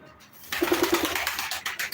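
A pigeon at a live pigeon auction gives a short run of soft, rhythmic coos, close by and a little muffled, over low room noise.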